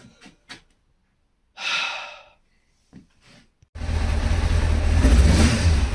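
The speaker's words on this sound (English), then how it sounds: "it's backfiring through the carburetors again. Misfiring." A Kawasaki ZX6R 636 A1P sport bike engine with a misfire problem, backfiring through its carburetors. A few faint breaths and clicks come first, then the engine bursts into a loud, rough, continuous roar close by.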